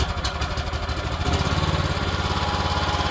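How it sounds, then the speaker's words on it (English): Small engine on a towable backhoe trencher running steadily after starting: a close, buzzy, rapid chug that smooths into an even idle, loud and alone with no talk. "Runs great."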